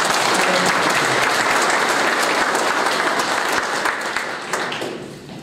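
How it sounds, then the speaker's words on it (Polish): A crowd at a sports awards gala in Puck, Poland gives loud, sustained applause that holds steady and then tapers off near the end. "Także wielkie brawa."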